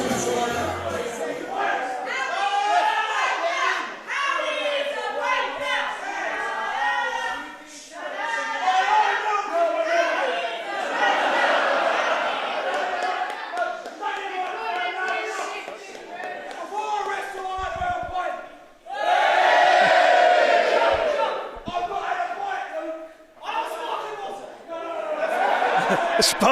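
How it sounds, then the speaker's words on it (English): Bar crowd at a professional wrestling show in Milton Keynes, a steady loud hubbub of many voices with chuckles and bursts of laughter, swelling louder near the end. "The whole crowd is at the bar here in Milton Keynes"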